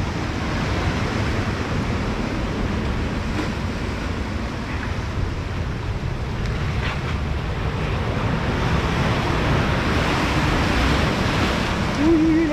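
Strong ocean tide with waves breaking against rocks on a rocky shore, a loud continuous roar of surf and spray with wind buffeting the microphone, close and unbroken from start to finish.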